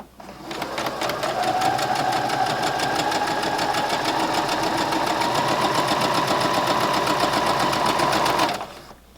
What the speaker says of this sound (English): we're just going to sew a straight 1/4 inch seam all the way down